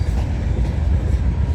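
A CN Rail freight train rolls steadily past close by, a dense, continuous low rumble of wheels and railcars with faint clatter, loud and unbroken throughout.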